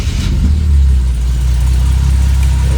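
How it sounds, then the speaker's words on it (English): A Mercedes R107 SL engine runs loud and steady at idle, a continuous low rumble right after firing up, with a slight swell in revs near the start and no voices. "So now I'm expecting this car to start right on up."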